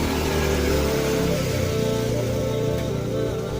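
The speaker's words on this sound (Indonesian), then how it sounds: "cuma motor ngaliwat" A motorcycle passing by, its engine droning and shifting pitch as it goes past, fairly loud and close, with no talk over it.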